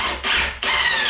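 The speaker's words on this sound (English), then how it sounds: "I'm going to put one screw right here" A power drill drives a screw into an MDF cabinet board mounted on a wall, giving a close, loud, steady whirring grind with a short dip in the middle before the motor surges again.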